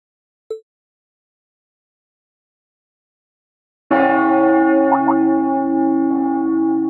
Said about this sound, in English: That must be Heimdall Cathedral's bell.